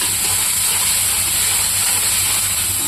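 Chopped tomatoes fry in a pan with dried red chillies and bay leaves for a paneer curry, making a loud, steady, close sizzling hiss throughout without talk.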